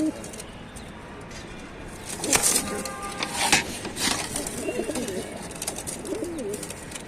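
Australian and Brazilian breed pigeons coo softly in low, burbling calls in Tanta, Egypt, with a few wingflaps or knocks and faint background noise, near but not loud.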